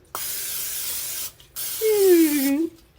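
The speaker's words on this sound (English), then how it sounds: "Spray a little Pam." Pam cooking spray hisses onto a hot waffle iron in two close aerosol bursts, the second joined by a brief whistling, squeaky tone before it cuts off.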